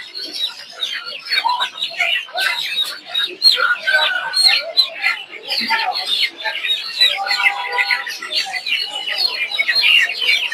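Farm chickens cluck and chatter continuously at a busy duck and chicken market in Tongi, many birds close by, with voices of traders and buyers mixed in.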